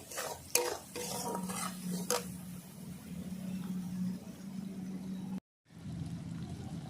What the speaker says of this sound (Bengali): লবণ মশলাটা আমি এক মিনিট ধরে ভালো করে কষিয়ে নেব আগে